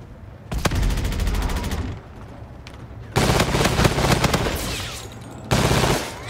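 Video game gunfire from Call of Duty Infinite Warfare: three loud bursts of rapid automatic shots, separated by quieter gaps.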